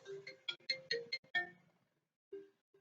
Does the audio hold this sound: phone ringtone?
yes